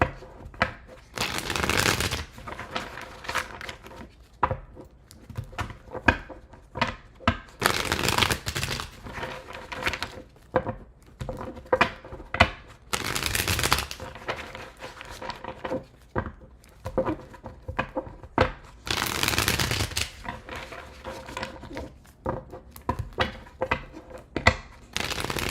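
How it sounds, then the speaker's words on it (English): A deck of tarot cards being shuffled over and over in a close, steady pattern: bursts of riffling and rubbing return about every six seconds, with softer slides and taps between them and no talk. "4 more shuffles."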